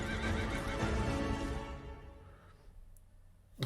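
A horse whinnies loudly in a period drama scene, a long neigh over hoofbeats and commotion that trails off into quiet, followed by a brief sharp sound at the end.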